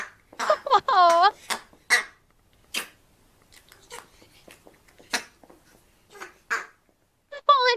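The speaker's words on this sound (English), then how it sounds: "that was a cute little crow" A crow gives a few short, harsh caws and calls, interspersed with people talking and reacting in a quiet room.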